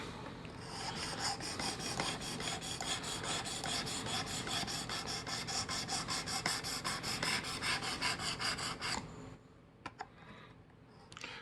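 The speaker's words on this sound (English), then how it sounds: "if I'm actually sharpening this is not too horrible from a completely just about unusable knife as far as dulling it up on this ceramic" A knife is sharpened on a ceramic Work Sharp sharpener, with close, rhythmic rasping strokes repeating rapidly for several seconds before stopping, followed by a few light scrapes and taps.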